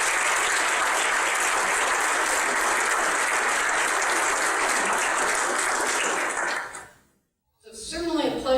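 An audience at a keynote address gives Dr. Nancy Currie-Gregg sustained, loud, dense applause for about seven seconds, then it stops abruptly and a voice begins speaking.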